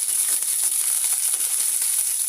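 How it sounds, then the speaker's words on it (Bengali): Garlic cloves frying in a pan with sliced green chillies, a constant bright hiss of hot oil with faint stirring ticks throughout. "এখন আমি রসুনগুলো ভেজে নিব একটু সময় করে।"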